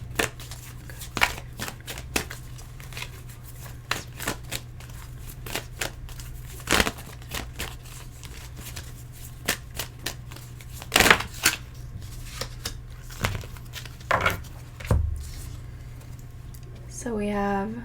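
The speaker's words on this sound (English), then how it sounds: "I'm going to pull one more card from the Crystal Angels Oracle deck." A Crystal Angels Oracle card deck being shuffled by hand, with repeated crisp riffles and taps of cards at close range, soft and intermittent over a low steady hum.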